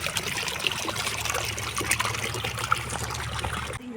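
Irrigation water flows along a channel on a Kathiyawadi farm in Gujarat, trickling and gurgling steadily and close over a low, constant hum.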